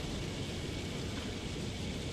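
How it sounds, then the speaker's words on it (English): Rain falls in the Microsoft Flight Simulator 2024 video game, a quiet, steady, hissing wash of rainfall with no distinct drops or other sounds. "It is raining, which is great."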